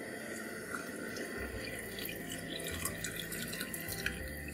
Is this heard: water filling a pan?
yes